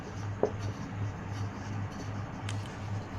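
Pen scratching on paper while working through a bank reconciliation, faint and close with a couple of brief taps and strokes over a low steady hum.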